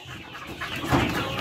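Sentul chickens, an Indonesian native breed, clucking softly on a farm over a steady outdoor hum, several birds murmuring together nearby without any single loud call.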